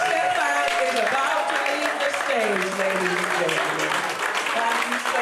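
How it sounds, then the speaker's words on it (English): Audience applause at an evening creativity event after a performer's stage appearance, a dense, continuous clapping under a person talking loudly over it throughout. "A huge round of applause."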